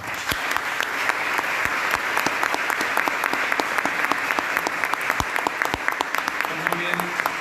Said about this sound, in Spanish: Un aplauso nuevamente para él.